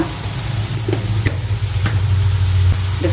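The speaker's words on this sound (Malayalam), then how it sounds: "എന്നിട്ട് ഒന്നുകൂടെ വഴറ്റി ഒരു ടീസ്പൂൺ ചിക്കൻ മസാല" Masala sautéing in a pan with a teaspoon of chicken masala added, a continuous close sizzle broken by several short stirring scrapes and clicks, with no talking.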